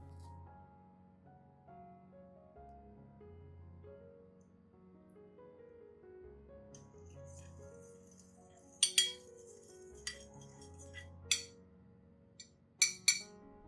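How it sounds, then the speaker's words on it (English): A teaspoon clinks sharply against a glass several times while baking soda is added, in quick separate taps over soft, steady background music. "I add 1 teaspoon of baking soda."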